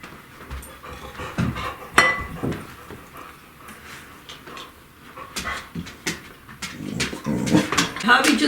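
A dog just let in from outside pants indoors in a kitchen, quick rhythmic breaths near the microphone with small whimpery sounds and some faint talk mixed in.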